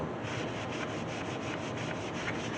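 Steady close rubbing of a cloth smoothing dye across a surface, a continuous soft scrubbing texture with faint rhythmic pulses and no voices.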